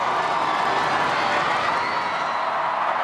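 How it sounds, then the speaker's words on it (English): Large crowds roar and cheer continuously along a royal wedding procession route as the open-top state carriage passes, a dense, steady wall of distant voices with no break. "The crowds by now even bigger and louder."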